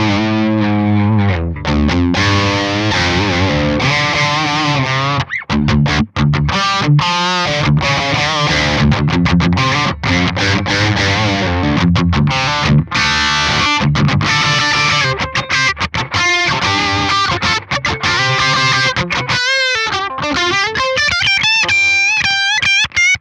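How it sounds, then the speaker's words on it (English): An electric guitar with a Fishman Fluence Classic humbucker plays a continuous run of chords and riffs through a cleaner distortion tone with low gain, loud and close with no talking. "I'm going to switch to a cleaner distortion sound"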